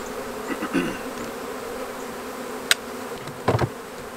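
Honeybees from a rescued hollow-tree colony buzz in a low steady hum, with a few brief louder passes as bees fly close near the end.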